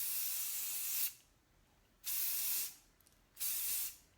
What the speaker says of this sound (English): I grab my hairspray and I just spray my hair